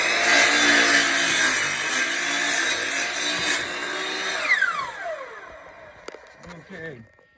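A power saw cuts wood boards for a raised garden bed, a loud sustained whine that winds down with a falling pitch as it stops, followed by a few clunks and knocks.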